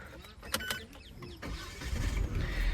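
A 2024 Citroen Basalt engine is started: brief clicks and a short whirring crank, then the motor catches and settles into a low, rising idle rumble, close by.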